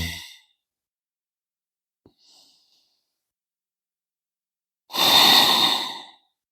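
During a yoga flow, a long, audible breath is drawn in and then released as a slow, breathy exhale, with near-silent pauses between them.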